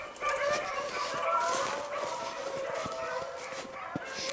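Beagle hounds bark and yip on an Ohio rabbit hunt, sharp scattered cries at a moderate distance over outdoor ambience, with people talking faintly in the background.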